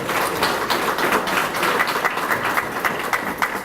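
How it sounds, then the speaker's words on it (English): Audience at an annual memorial banquet claps steadily for a scholarship recipient, a dense, even patter of many hands filling the room for several seconds without pause. "Give Quentin a round of applause, please."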